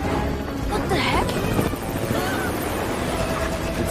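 Helicopter in a TV show, heard as a continuous droning rotor and engine roar under a noisy soundtrack, with overlapping people talking.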